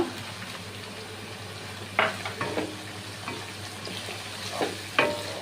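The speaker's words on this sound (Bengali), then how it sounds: "2 মিনিট আবারও ভালো করে নেড়ে চেড়ে নিতে হবে।" Chopped tomato and green chilli stir-fried in a pan for a vegetarian 'veg chicken' curry: a steady low sizzle with several sharp spatula scrapes and stirs at irregular intervals, close by and with no talk.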